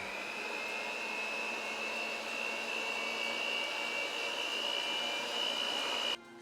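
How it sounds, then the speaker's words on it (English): Electric mixer on low speed mixing pumpkin pie filling with flour, a steady close motor whine with a constant high-pitched hum and faint whirring, holding evenly for about six seconds before cutting off. "Now we mix. Start my mixer on low."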